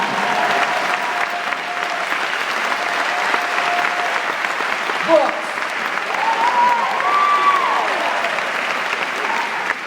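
A theater audience applauds steadily for the whole stretch at a book festival talk by an author, the dense clapping loud and continuous while a voice talks over it.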